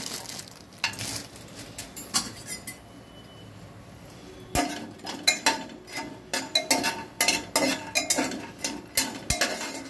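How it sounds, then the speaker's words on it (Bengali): Lentil dumplings (bori) dry-roast in an oil-free wok, stirred with a utensil that scrapes and clatters in irregular bursts, growing busier and louder in the second half. "বড়িগুলো শুকনোভাবে ভেজে নিচ্ছি, শুকনো কড়াতেই ভেজে নিচ্ছি।"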